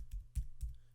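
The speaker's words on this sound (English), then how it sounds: "the quickest way to get there is to type in this website" A few quick keystrokes sound on a computer keyboard as a website address is typed, three soft close clicks within a second.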